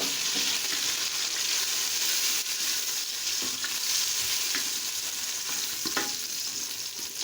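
Onions fry to light brown for chicken korma, a constant dense sizzle in hot oil with occasional soft stirring scrapes.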